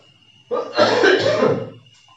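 A single harsh cough bursts out close up, lasting about a second before fading into quiet.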